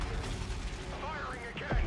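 Ship weapons firing in the space combat game Star Citizen, a dense rumbling barrage with a heavy low boom near the end, heard under and alongside radio-style voices.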